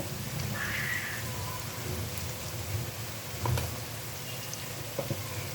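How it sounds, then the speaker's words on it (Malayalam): Heavy monsoon rain pours steadily outside a home kitchen in Kerala, a soft continuous hiss of drops with a few faint knocks and clinks scattered through it. "ഇന്ന് ഭയങ്കര മഴ"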